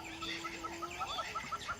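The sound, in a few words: birds waking at dawn in the African savanna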